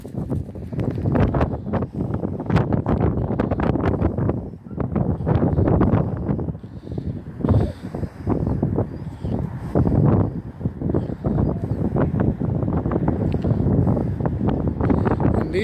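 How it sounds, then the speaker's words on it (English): Strong wind blusters steadily across an outdoor retriever training field where a dog works singles through duck decoys, with gusty rumble and microphone buffeting throughout and no clear talk. "Oh, wind is at her back, so come on, Ellie."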